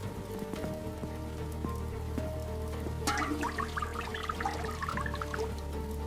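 Steady rain pattering on a farmhouse roof and surfaces, a continuous dense hiss with scattered drips, with brief faint chirpy sounds partway through.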